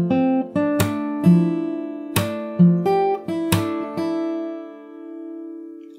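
A fingerstyle acoustic guitar works through a passage of a song, with plucked chords and several percussive slaps in a steady, unhurried rhythm, up close and played alone.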